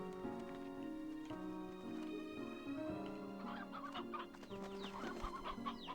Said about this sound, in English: the chibi chickens have not grown up as much as I thought they would